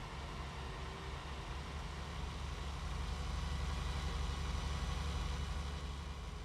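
A tractor engine idles in Farming Simulator 19, a steady low rumbling drone that holds even and loud throughout with no talk over it.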